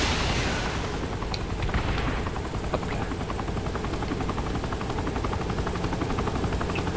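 Helicopter rotors drone steadily in the Saints Row 3 video game, with booming explosions and bursts of gunfire breaking through early on, all loud and continuous with no talk.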